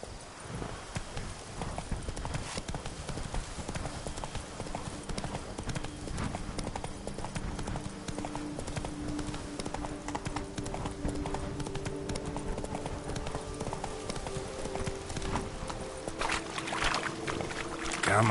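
Roach the horse trots in The Witcher 3 with steady, rhythmic clip-clop hoofbeats throughout, joined by faint ambient tones and a voice speaking briefly.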